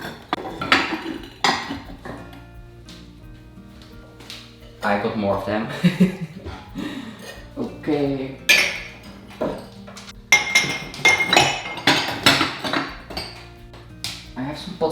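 Hard glazed ceramic test balls from pouring work clink and knock against each other and against pots as they are handled and put away, in irregular bursts of sharp clatter, with a person talking between them.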